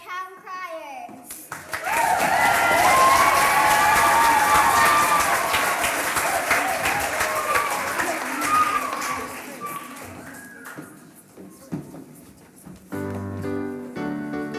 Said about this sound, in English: Ladies and gentlemen, give a round of applause for our town criers.